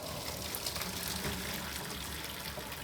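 Water pouring off boiled rice as it drains before going into fried rice, a steady, fairly soft rushing gush throughout, with no speech.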